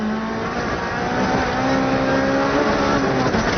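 A rally car engine on the Manx Rally is held at high revs, a loud, steady, close-up drone with a slight climb in pitch and no voices.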